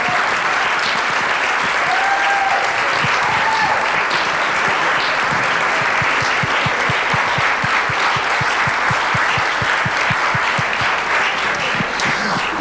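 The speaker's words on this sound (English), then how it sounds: "one last round of applause for these wonderful," Dense, sustained applause from a concert audience at a Broadway-themed music academy benefit concert, steady and loud with crisp overlapping claps filling the whole stretch, a few faint voices mixed in.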